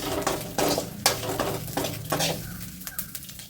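Dried shrimp being roasted dry in a pan for shrimp chutney, with repeated metallic scrapes and stirring clatter against the pan over a soft crackle, close and moderately loud, no voices.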